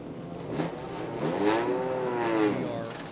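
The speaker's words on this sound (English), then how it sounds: "The Road to Indy pace car is out. It's a Honda Civic." A Honda Civic pace car drives past on the Barber Motorsports Park race track, its engine rising and falling in pitch as it passes, fairly close and steady over about three seconds.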